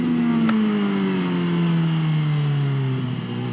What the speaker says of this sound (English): I mean, just the, it sounds so good. That engine just roars.